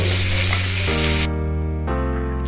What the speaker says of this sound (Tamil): ஆனியன் எவ்வளோ வதக்கிறோமோ அது அவ்வளோ நல்லாயிருக்கும்